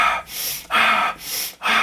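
Sharp, forceful inhales repeated during a breathing technique, three quick breaths in a steady rhythm, close and clear with no talking.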